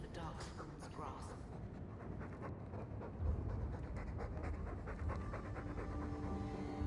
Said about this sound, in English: All that noisy dog breath, day in, day out.